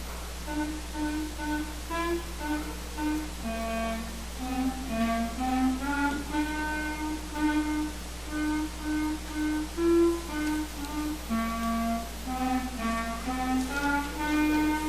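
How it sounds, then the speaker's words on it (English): Two clarinets play Good King Wenceslas as a duet at a 5th and 6th grade holiday concert, a steady melody with sustained notes, moderately loud over a constant low hum from the room. "Let's hear from some clarinetists as Dakota Grimm and Isabella Jensen play Good King Wenceslas."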